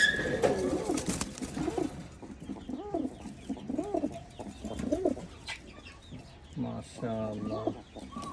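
Pigeons of a special Chinese pair coo in a loft, repeated soft rolling coos at a steady pace, with someone talking at the start.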